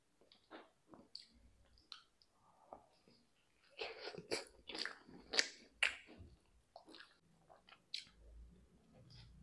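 Domino's and Pizza Hut pizza being bitten and chewed close to the microphone in a series of separate wet, crunchy bursts with short pauses between them, growing denser in the middle.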